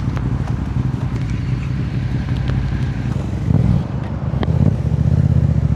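A Yamaha MT-07 motorcycle riding through Bangkok streets, its engine holding a low, steady drone, then revving up in two stronger bursts of acceleration near the end.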